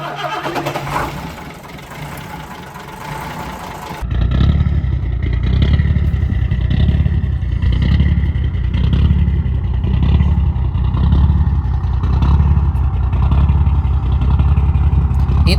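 An old vehicle's engine, left standing for six months, cranks and catches, then settles into a loud, rough, lumpy idle with a steady pulsing throb and mechanical clatter, close by.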